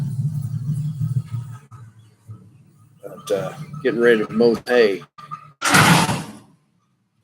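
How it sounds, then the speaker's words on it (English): A neighbour's truck pulling a cattle trailer rolls in with a low, steady engine rumble, heard clearly at first and then continuing faintly under someone talking nearby outdoors. "Neighbors coming in with the trailer here."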